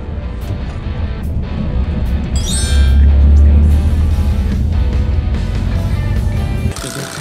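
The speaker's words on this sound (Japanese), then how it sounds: "雨量やばいです今日。" Heavy rain pours down in a dense, continuous wash with a deep low rumble underneath and a faint clink near the end.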